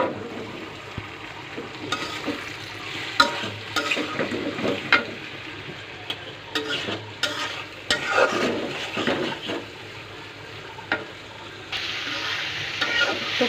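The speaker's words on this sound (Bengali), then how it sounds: "পেঁয়াজের সাথে ভালো করে টমেটোটা ভেজে নিচ্ছি" Tomatoes frying with chopped onions in a pan, stirred repeatedly: a steady close sizzle broken by frequent scraping stirs, with no talking.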